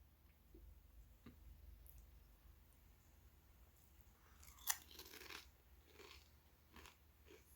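Crunchy Lay's potato chips being bitten and chewed, a faint tick or two and then a cluster of crisp crunches and chewing, close but quiet, with no talking.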